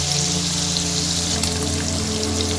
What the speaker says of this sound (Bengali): পনিরগুলো দিয়ে দিয়েছি তেলের মধ্যে। এবার এগুলো হালকা ভেজে তুলে নেব